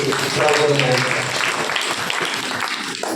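A church congregation at a Sunday worship service claps together in sustained, dense applause, loud and continuous for a few seconds before tapering slightly.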